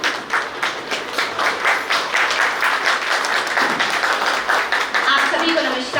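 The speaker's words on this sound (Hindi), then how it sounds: "एक बार जोरदार तालियां।" Loud audience applause at a national-level seminar at a women's postgraduate college, brisk rhythmic clapping from a room of people, with a voice speaking over it near the end.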